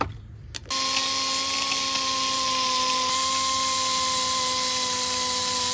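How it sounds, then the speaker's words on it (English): A power tool strips rust from the brake hose mounting surface during a rear brake caliper, rotor and pad job on a 2015 Mazda CX-5. After a brief quiet start it spins up into a steady, close, high-pitched whine that runs on unbroken. "I'm gonna go ahead and clean the rust off of this surface"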